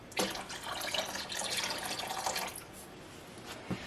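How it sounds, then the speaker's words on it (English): Vinegar is poured into milk heated to 120 degrees Fahrenheit to curdle it for homemade mozzarella, a soft, close splashing trickle that runs for a few seconds and then trails off quietly. "we are adding 8 tablespoons of vinegar."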